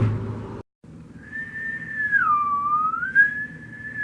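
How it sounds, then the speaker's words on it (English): A sustained whistled tone follows a brief moment of silence. Its pitch dips low and rises back up, clear over quiet background noise. "Are you whistling right now?"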